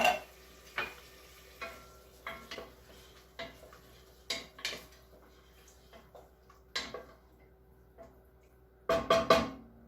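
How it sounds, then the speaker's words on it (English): Tomato sauce sizzles quietly in a pan under repeated scrapes and clinks of a utensil stirring, with a few louder knocks near the end. "So this is starting to sizzle."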